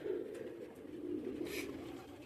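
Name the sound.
pigeons cooing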